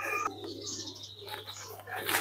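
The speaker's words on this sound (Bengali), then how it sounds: "এর মধ্যে শুধু কবুতর, শুধু কবুতর।" Pigeons in a rooftop pigeon house coo softly in low, murmuring calls, faint and close, with a steady hum in the background.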